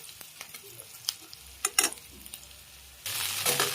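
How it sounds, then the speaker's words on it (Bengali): Chow mein noodles with vegetables being stirred in a hot pan, with scattered scraping and clinking strokes over soft sizzling, then a louder, steady burst of frying toward the end. "চাউটা নাড়তে লাগবো।"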